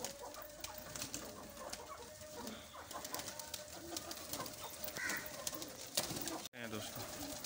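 Pigeons and chickens in a backyard loft, with cooing and clucking continuing steadily throughout amid faint background voices and rustling.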